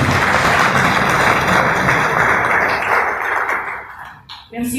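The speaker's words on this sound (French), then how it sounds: "Applaudissons-nous nous-mêmes." At the close of a scientific conference in a French-speaking hall, the audience applauds in a full, sustained roar of hands that stays strong for about four seconds, then thins and breaks off as a voice cuts in.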